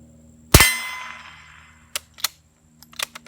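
A suppressed .45 pistol fires subsonic rounds at a steel target: one sharp report with a ringing metallic clang that decays over about a second, followed by several fainter impacts.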